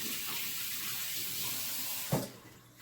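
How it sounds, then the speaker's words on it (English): Tap water runs steadily into a kitchen sink as hands are rinsed, a soft continuous hiss with a brief splash near the end before the flow fades. "let me rinse my hands real quick"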